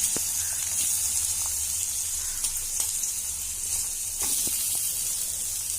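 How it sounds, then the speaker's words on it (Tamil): Onions fry in hot oil in a pan with curry leaves and coriander for a Tamil-style potato masala, giving a steady, close, loud sizzling hiss with occasional faint clicks and no talking. "இப்போ வெங்காயம் போட்டுக்கிறேன்."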